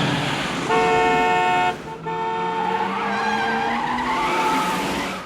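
In a film scene, a speeding car's tires squeal and skid loudly, mixed with a horn-like toot and rising engine noise over several seconds.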